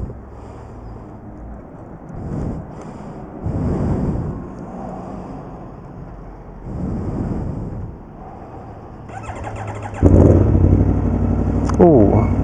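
A 2011 Aprilia Tuono V4 APRC motorcycle engine with standard exhaust revs in several rising bursts, then settles into a louder, steady rumble near the end, with some wind noise throughout.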